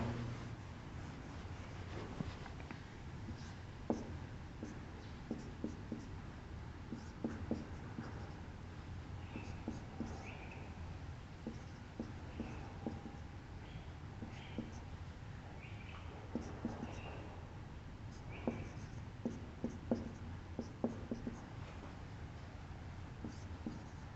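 Pen or marker scratching steadily while writing out a ketone example for acid-catalyzed reactions, close and quiet, with irregular strokes and taps over a low background hum and no speech.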